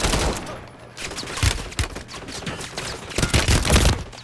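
Gunfire in Warzone 3 on Rebirth Island: dense, continuous exchanges of close and distant shots with bursts of automatic fire, heard with little talk.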